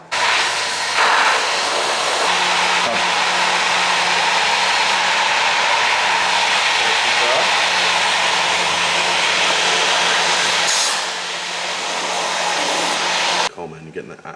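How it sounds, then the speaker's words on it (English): A Hoover vacuum cleaner runs steadily at close range, used for blasting in a car engine build, a continuous loud whooshing hiss with a low hum that dips briefly near the end before cutting off. "We're using Cole's Hoover, Mrs. Hoover actually, Hetty"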